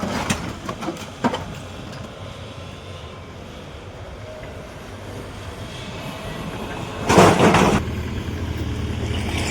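A tractor loaded with large boulders runs its engine in a steady, loud mechanical rumble. Two short, sharper bursts come early, and a louder surge arrives near the end.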